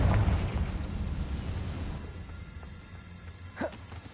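A Confringo fire-blast spell in Hogwarts Legacy lands as a dull, loud boom that rumbles and fades, followed by a sharp smaller burst near the end.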